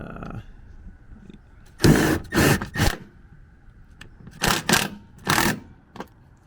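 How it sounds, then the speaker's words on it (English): A compact impact wrench tightening bolts on a Ford truck, several short loud bursts of whirring and rattling hammering, close up, separated by quiet gaps over a faint background hum. "it's just a matter of tightening it up with the gun. Here's the impact"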